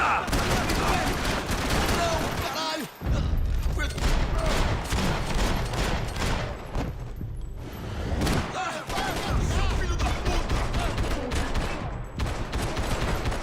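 Gunfire in the video game Max Payne 3, dense bursts of rapid shots and fusillades nearly continuous over the whole stretch, loud and close, with a few brief gaps and speech mixed in.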